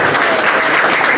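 An audience at a football club's season launch evening breaks into applause, a brisk, continuous patter of many hands clapping, loud and close, with no speech over it.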